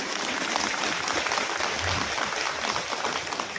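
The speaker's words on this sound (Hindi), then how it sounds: "एक बार जोरदार ताली बजा के स्वागत करिए।" Steady applause from a crowd welcoming a guest at an outdoor village meeting, continuous and moderately loud throughout with no pauses.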